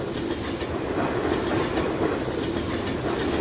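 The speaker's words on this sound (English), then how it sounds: "There's one of our many trains that comes through." A long freight train rolls past in Farming Simulator 19, its steady rumble and clickety-clack of wheels on rail continuous and fairly close throughout, with no talk.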